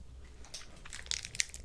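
Wet, crunchy chewing of chewy candy close to the mic, with irregular sharp crackles and squishy bites over a low background hum.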